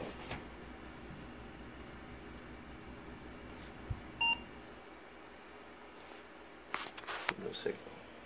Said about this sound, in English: Had a one beep from the computer, which means it's booting fine.